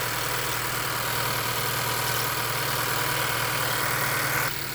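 A 2015 Honda Accord four-cylinder engine idles after a valve cover replacement, a steady close mechanical hum that cuts off abruptly near the end.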